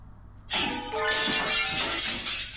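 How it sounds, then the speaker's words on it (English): A glass object shatters with a loud crash in the Hatoful Boyfriend game, a sudden bright burst of breaking glass that rings on and scatters for about two seconds, heard alone. "Some glass object splinters with a monumental crash behind us as we make for the exit."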